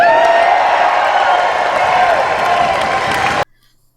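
Crowd of about 1,500 people at an Edmonton election rally, cheering and clapping as one loud, steady roar that cuts off abruptly.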